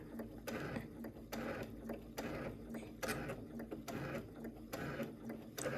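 A sewing machine stitches the corners of a fabric cosmetic bag in short, quiet mechanical runs, whirring and clicking in repeated bursts with brief pauses between them.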